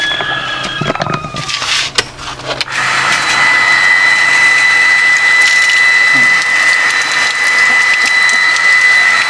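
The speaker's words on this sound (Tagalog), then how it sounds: "Ayan na, yung update ng water pump, kung gumagana pa after 1 year." An INGCO 0.5 HP water pump, in use for a year, starts after a few clunks and handling noises and then runs with a steady, loud mechanical hum and a thin high whine, heard up close.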